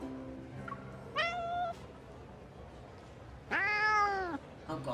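An unfamiliar kitty in the video game Love and Deepspace meows twice: a short, clear meow, then a longer, louder, drawn-out one, both near and alone over a quiet background.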